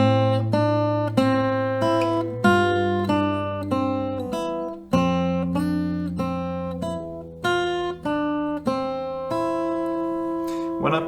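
Acoustic guitar playing a melody twice through, plucked single notes over sustained low open strings in an even, unhurried rhythm, close and solo with no voice.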